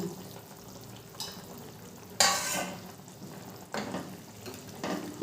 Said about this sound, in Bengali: ভালো করে একটু নেড়ে দেবো।